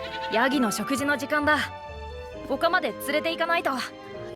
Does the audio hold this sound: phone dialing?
no